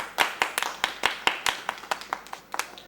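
A few people clap by hand, a dozen or so sharp, separate claps at an uneven, moderate pace, close and clear with no talk over them.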